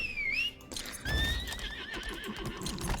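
A horse in the Lost Ark video game gives a loud, wavering whinny, followed by a rapid run of hoofbeats and further neighing, close and prominent with no talk over it.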